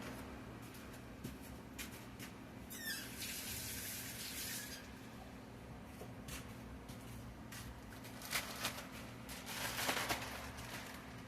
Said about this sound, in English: Let me wash my knife off.